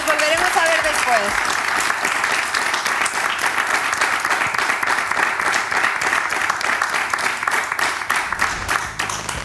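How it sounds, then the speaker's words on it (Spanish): A television talent-show audience breaks into sustained applause, dense clapping that stays steady for several seconds, with a voice briefly speaking over the start in Spanish. "un aplauso para Ana y para Adrián"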